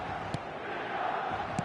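Stadium crowd in a football video game, a steady massed roar of chanting and cheering, moderately loud and distant, with a couple of brief sharper accents.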